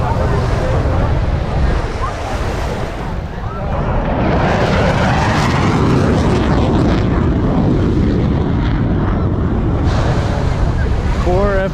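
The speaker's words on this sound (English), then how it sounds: "Four F-15s over Miami Beach" Four F-15 fighter jets roar over Miami Beach at an air and sea show, their broad rushing thunder sweeping across the shore. Wind buffets the microphone, and a voice calls out briefly over the din.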